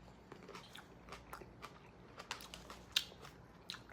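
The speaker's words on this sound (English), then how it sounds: "I'm going to consume this single palate cleansing grape tomato." A few crisp, wet bites and crunches close up as a grape tomato is eaten, with small clicks scattered between them and one sharper snap near the end.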